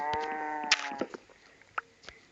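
A short Minecraft cow moo sounds at the start, followed by a few sharp clicks and knocks against a quiet background.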